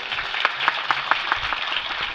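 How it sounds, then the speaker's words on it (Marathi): An audience claps together at a Shri Ram Katha religious discourse in Nimgaon Madh, making steady, rhythmic hand claps in unison that form a dense, even patter throughout. "टाळ्या तुम्ही वाजवल्या पाहिजे"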